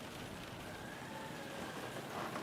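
Steady rain falls in the video game Kingdom Come: Deliverance as a soft, even hiss of drops that stays faint and unbroken throughout, with no speech.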